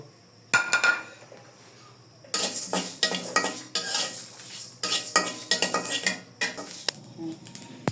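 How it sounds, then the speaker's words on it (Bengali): Whole spices such as cardamom and cinnamon for an olive pickle are stirred in a hot kadai, with repeated scraping and metallic clinks of a utensil against the pan in bursts, following a short quiet opening. "এখন আমি কড়াইটা বসাই দিয়েছি, আমার কড়াইটা গরম হয়ে গিয়েছে। এখন আমি এগুলা সব একসঙ্গে ভেজে নিব।"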